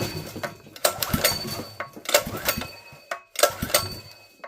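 A Predator 212cc engine converted from horizontal to vertical shaft is pulled over by hand, giving several uneven bursts of mechanical clatter and whirring with a heavy knock at one point, close up.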